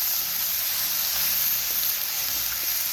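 Chicken pieces frying with already-browned onions in a pan give off a steady, close sizzle and hiss, with faint stirring underneath throughout.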